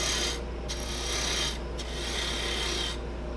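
A spindle gouge cutting a wooden mallet blank spinning on a lathe, giving a steady, close, hissing rasp of tool against wood with brief pauses as the gouge is lifted and reapplied.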